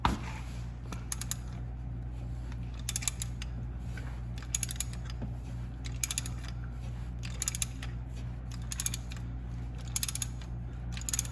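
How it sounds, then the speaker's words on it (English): A 12 mm Allen key turns the transmission fill plug on a Fiat 500 Abarth, giving rhythmic ratcheting clicks in short repeated bursts, close and fairly quiet over a low hum, with no talking. "it's gonna take a 12 millimeter Allen key to remove the fill plug"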